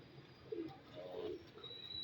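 Soft, low pigeon coos, a couple of short murmuring calls against quiet background noise.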